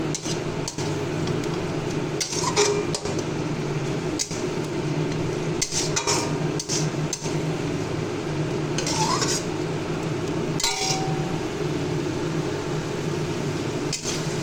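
Greens cooking with turmeric are stirred hard in a pan, giving repeated metallic scrapes and clinks over a steady low hum, with faint voices now and then.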